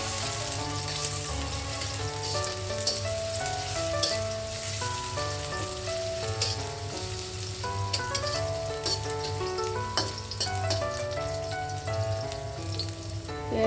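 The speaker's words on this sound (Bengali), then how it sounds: "এখন আগে থেকে কেটে রাখা পেঁয়াজ কুচি দিয়ে দিব ভাজার জন্য" Chopped onions fry in hot oil in a wok for a chicken curry, with a steady, even sizzle running throughout beneath a layer of tonal background music.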